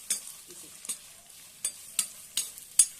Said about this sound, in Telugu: ఉల్లిపాయ ముక్కలు, పచ్చిమిరపకాయ ముక్కలు, వేసేసి బాగా యాగనివ్వాలి